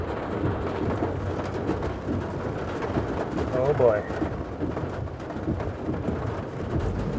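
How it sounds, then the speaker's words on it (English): Heavy rain while driving into Ulaanbaatar, Mongolia, a dense steady wash of rain on the car over a low road rumble throughout, with a person briefly speaking. "The rain is making it a little difficult."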